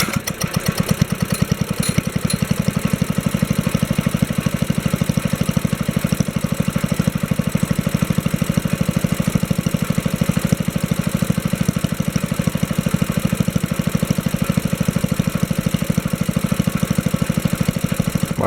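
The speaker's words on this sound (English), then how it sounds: "I'm going to try to restart it again, but this time I'm going to leave the choke off" A Kohler engine on a Wheel Horse 704 garden tractor, recently repaired for rod knock, idles steadily after a restart with the choke off, giving a loud, even, rapid thumping beat that carries on unbroken and with no one talking.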